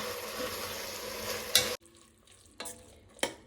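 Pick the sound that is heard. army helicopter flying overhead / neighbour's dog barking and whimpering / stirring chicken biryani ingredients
stirring chicken biryani ingredients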